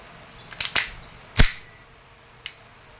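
Umarex Glock 17 Gen 4 airgun pistol fired left-handed, giving a few sharp, snappy pops spaced irregularly: a quick pair near the start, a louder crack in the middle, and a fainter click toward the end.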